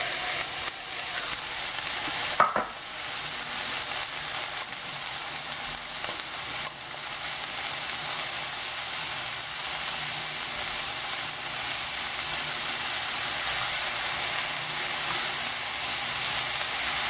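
Lentils and vegetables sizzling in a pan, a steady close frying hiss throughout with a brief clatter of stirring near the start.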